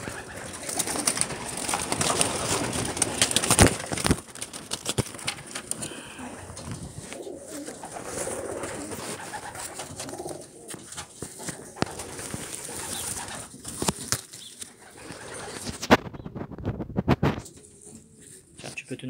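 Soft pigeon cooing mingles with constant background noise and rustling, with occasional louder clatter; a voice talks intermittently over the birds.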